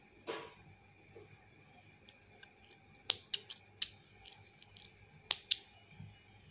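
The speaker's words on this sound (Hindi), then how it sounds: "एक चेन बनाते हुए धागे को काट लेना आपको" Small scissors snipping crochet thread: a handful of crisp, close clicks and snips, some in quick pairs, with quiet handling noise between them and no talk.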